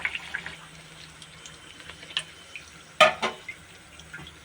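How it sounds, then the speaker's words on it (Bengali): Semolina luchi deep-frying in hot oil, giving a steady soft sizzling hiss with scattered crackles and one sharper burst of bubbling near the end. No one speaks. "দিয়ে আস্তে আস্তে ভেজে নেব সুজির লুচিগুলো।"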